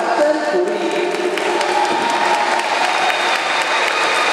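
Sustained applause and cheering from a crowd at a national age-group swimming championship, a dense, even wash of clapping that carries throughout without letting up.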